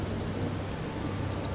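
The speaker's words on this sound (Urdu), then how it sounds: "جب تک بارش نہیں رکتی تب تک تو کچھ بھی نہیں کیا جا سکتا۔" Steady, dense rain falls throughout as a constant hiss, used as a sound effect in a horror story, with a faint rumble beneath and no voices.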